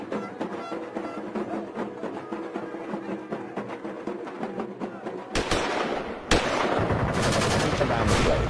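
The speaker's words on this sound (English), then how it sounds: "Gunshots and explosions are heard as security forces move to end the Bangladesh hostage standoff" Rapid bursts of gunfire crackle in quick succession during a hostage standoff in Bangladesh as security forces move in, followed by louder blasts and a harsher, denser barrage, with faint voices underneath.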